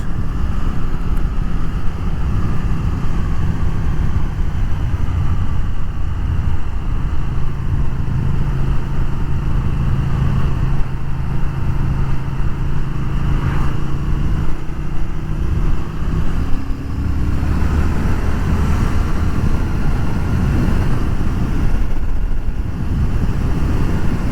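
A Triumph Thruxton RS motorcycle riding on an open road, its engine droning steadily beneath heavy, continuous wind buffeting on the microphone, with pitch shifting slightly as speed changes.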